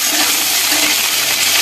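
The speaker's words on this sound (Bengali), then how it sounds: "এবারে আলুটা দিয়ে একটু ভালো করে ভেজে নেব" Potatoes frying in hot oil in a wok with bay leaves and whole cumin, a dense loud close sizzle and crackle holding steady through a brief moment.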